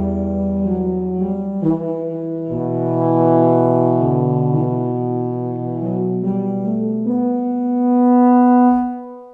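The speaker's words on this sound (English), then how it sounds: "So that's just the tuba." Sampled tuba from Spitfire Audio's British Drama Toolkit brass library plays a slow, sustained low line alone, with several held notes changing pitch and swelling in loudness.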